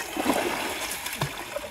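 Water is poured over a person's head, giving a brief spell of soft splashing and trickling over a noisy background.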